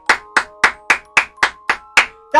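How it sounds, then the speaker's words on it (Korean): Nine sharp, evenly spaced hand claps ring out at a brisk pace, close and loud, marking the finale of a Korean-played horror-styled RPG Maker game. "어쨌든 간에 다시 박수 한번 해주세요."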